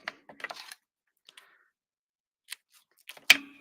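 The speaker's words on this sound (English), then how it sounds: "I'm going to grab a leaf, and I'm going to actually snip it." Scissors snip a paper leaf for a handmade card: a few quick, close, crisp cuts and small rustles separated by silence, ending with one louder snap of the blades.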